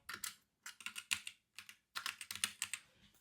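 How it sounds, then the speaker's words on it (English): Bursts of quick keystrokes on a computer keyboard as a server name is typed, clustered in short runs with brief pauses, close and clear with no talking. "So you would type it out"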